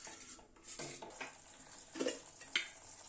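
Spice masala with fennel powder is sautéed in a pan, faint scraping and clinking of a spatula against metal with a soft, low sizzle underneath, a few sharper knocks near the end, no voices.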